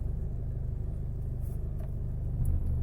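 A Mercedes Viano van engine runs steadily at a low, even idle rumble, close by, with a faint click or two over the continuous throb and no voices.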